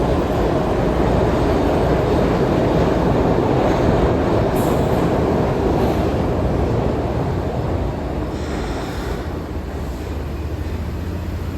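A mainline local train on Philadelphia's Broad Street subway arrives at the station, a steady, loud rumble of wheels and cars that holds throughout, with faint higher squeals drifting above the roar.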